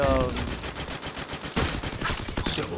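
Sniper rifle fire in a Garena Free Fire match, heard as a quick burst of sharp shots under excited commentary.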